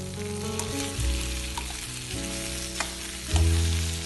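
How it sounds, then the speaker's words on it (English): Already cooked mutton pieces frying with ginger and garlic give a loud, constant sizzle, with a low droning hum underneath and a couple of soft stirring knocks. "we'll add already cooked mutton pieces. We'll mix it well along with ginger and garlic"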